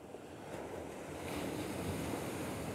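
Waves wash steadily at high tide along Natural Bridges State Beach in California, a soft continuous surf wash with light wind, faint and distant, slowly swelling and with no voices.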